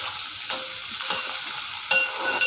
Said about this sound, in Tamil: இப்போ கொஞ்சம் வதக்கி எடுத்துக்கிறோம்